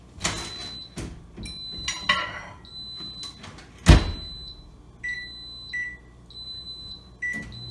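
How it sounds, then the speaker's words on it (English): A microwave oven set to heat butter: close clattering and knocks as it is handled, then a series of short electronic beeps from its panel, with quiet gaps between. "So I am microwaving my butter"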